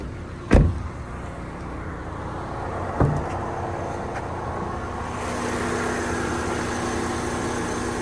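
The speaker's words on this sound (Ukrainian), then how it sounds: "Робота двигуна, двигун працює чітко" A Volkswagen Caddy engine idles steadily with the hood open, a low continuous hum, with a couple of sharp clunks near the start like a latch or hood.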